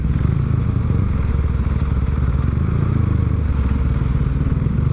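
A motorcycle engine runs steadily and loudly up close while riding through congested traffic, a continuous low rumble with some clatter.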